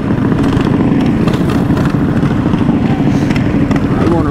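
Mini bike engine droning loud and close at night on a street in Compton, a steady buzzing roar with slight revving swells throughout, with voices faintly mixed in.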